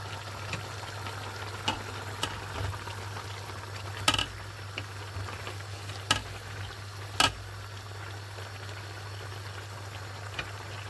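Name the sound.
fish and meat boiling in a pot for vegetable soup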